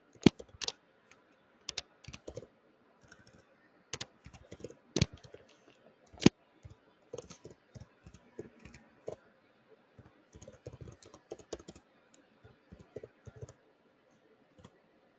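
Keyboard typing at a computer during an online NYC public schools information session, heard as uneven bursts of key clicks with pauses between them, moderately close and alone without talking.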